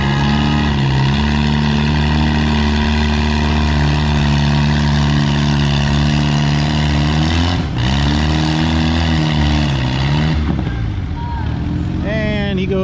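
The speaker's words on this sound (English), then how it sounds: "2024 Puget Sound Antique Tractor and Machinery Association tractor pull" Antique tractor hooked to a sled at a 2024 Puget Sound Antique Tractor and Machinery Association pull, its engine droning loud and steady with strong harmonic rumble, dipping briefly then bogging and fading as the pull ends; voices talk over it.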